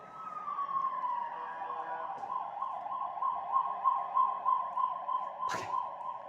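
A wailing emergency siren outside the building, starting with a long falling tone and then settling into a steady warbling rise and fall that carries on throughout, moderately loud and slightly distant, with a brief sharp knock near the end.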